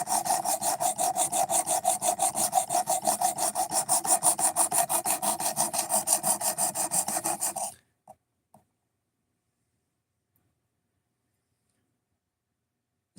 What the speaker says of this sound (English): this sharpening system here will get a knife ridiculously sharp